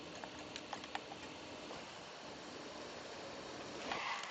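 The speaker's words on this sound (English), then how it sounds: "It's getting rainy again." Rain falls in the video game Don't Starve during spring, a steady even patter with a few faint ticks and no talk over it.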